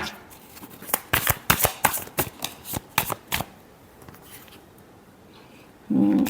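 Tarot cards riffled and shuffled in a quick run of crisp, close flutters that trail off, with a low hum or voice coming in briefly at the end.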